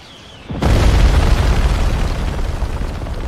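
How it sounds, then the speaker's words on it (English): A missile explosion bursts in after a brief quiet moment, a sudden loud boom that leaves a heavy rumbling roar slowly fading over the following seconds. "Wait, it's not the Biemas, it's missiles!"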